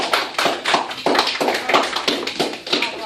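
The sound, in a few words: class clapping hands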